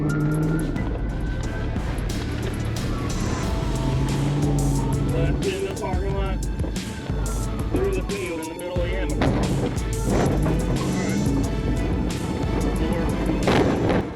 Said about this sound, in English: The pursuit raced through multiple intersections at high speed.